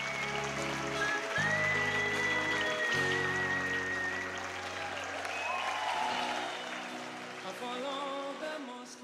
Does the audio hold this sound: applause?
yes